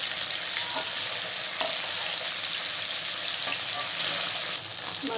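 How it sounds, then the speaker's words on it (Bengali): Hilsa fish fries in oil, a continuous close sizzle with faint crackles and occasional spatters, steady throughout. "মাছটা উল্টে পাল্টে ভেজে নিলাম, হয়ে গেছে ভাজা।"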